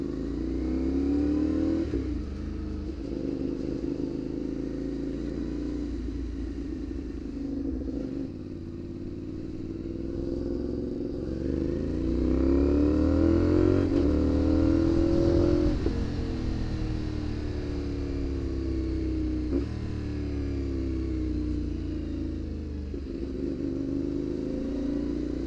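A motorcycle on a Sunday coffee ride rumbles on for the whole stretch, its engine revving up and easing off again while wind and road noise stay steady underneath.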